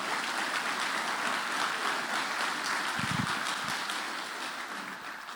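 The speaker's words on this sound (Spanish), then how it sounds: "dele un fuerte aplauso al Señor" Steady applause from a church congregation saluting the Lord, a dense wash of many hands clapping together, loud and sustained throughout, easing slightly toward the end, with no speech over it.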